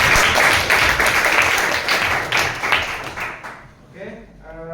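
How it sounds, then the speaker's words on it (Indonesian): Students at a polytechnic class on VLANs break into loud, dense applause that holds for several seconds, then thins out and fades, giving way to a voice speaking at the end. "mungkin kita berikan tepuk tangan dulu"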